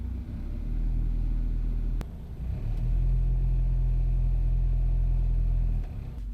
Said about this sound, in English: I have this annoying vibration in my engine. It's sort of a metallic trill that comes and goes at certain revs.